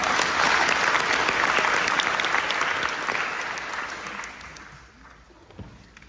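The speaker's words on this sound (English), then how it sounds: "So let's give her a round of applause." A graduation audience at St John Lutheran School in Ocala gives a dense round of applause. It starts full and close, then tapers off to a few scattered claps.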